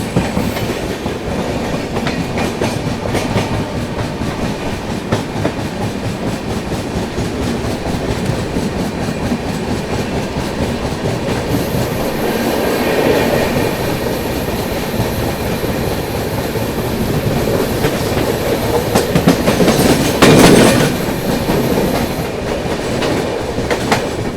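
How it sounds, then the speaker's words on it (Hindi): The Barauni Gondia Express passes close by in heavy monsoon rain, a loud continuous rumble with rhythmic wheel clatter and a brief squeal of wheels near the end, with no voices. "चलिए गई दोस्तों आप लोगों की बरौनी गोंदिया एक्सप्रेस।"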